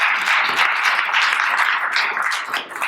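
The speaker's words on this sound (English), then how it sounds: "So I think that deserves a nice round of applause." Audience applause for a nursing program's approval by the Ohio Board of Nursing fills the room with dense, steady clapping throughout, loud and sustained with no pauses.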